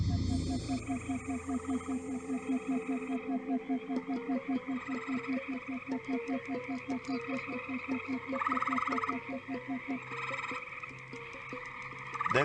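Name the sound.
male green frogs croaking around a lake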